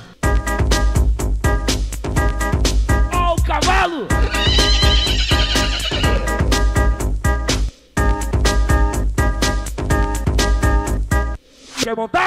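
Loud Brazilian funk montage built on a horse whinny sample, a sweeping neigh rising and falling early on while a hard, fast beat pounds throughout with brief breaks.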